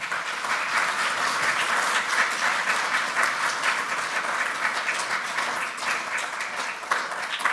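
An audience at a university lecture on Bangabandhu Sheikh Mujib gives steady, moderately distant applause, a continuous wash of many hands clapping for the whole stretch.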